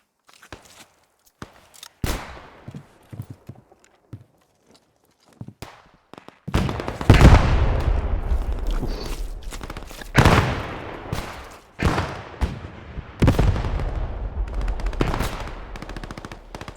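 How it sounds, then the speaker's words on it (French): Gunfire rings out in the Squad 44 video game, including an anti-tank gun engaging infantry: sharp, loud blasts with long echoing tails, separated by quieter gaps and scattered smaller shots. "Le canon anti-char engage de l'infanterie ennemie qui rampe au sol"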